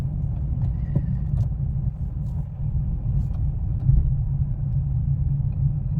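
A car drives in second gear on a single-lane road, giving a steady low cabin rumble with a few faint clicks and knocks. The sound is close and continuous, with no talk over it.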